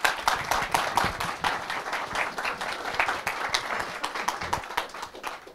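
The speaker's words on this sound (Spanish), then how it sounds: "recibámoslo con un fuerte aplauso" A conference audience at an immersive audio calibration talk in Buenos Aires claps to welcome a speaker, with distinct individual hand claps ringing out in a lively, fairly close burst of applause.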